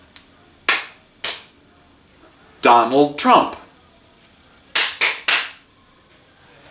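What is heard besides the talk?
hand clapping rhythm exercise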